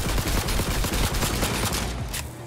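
A gun in Cyberpunk 2077 fires a fast burst of closely spaced shots at a wall, loud and continuous for about two seconds before stopping.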